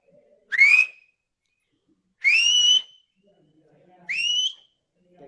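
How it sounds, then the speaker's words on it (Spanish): Three loud, piercing finger whistles by a Silbo Gomero whistler, each a short rising-then-level blast with gaps of silence between them, close and clear. "¿de cuántas maneras distintas colocas los dedos para silbar?"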